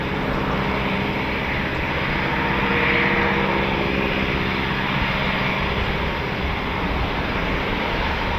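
A Eurofighter Typhoon FGR4 jet at RAF Coningsby produces a loud, steady, broadband engine roar that stays even and close for the full eight seconds, with no talking.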